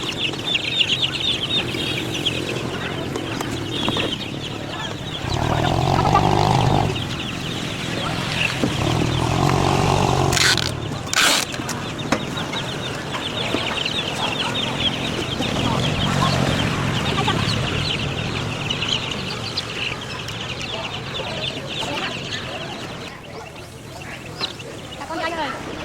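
Chickens being sold from a truck cluck and squawk persistently at close range under busy market chatter, with louder bursts of flapping and calls midway.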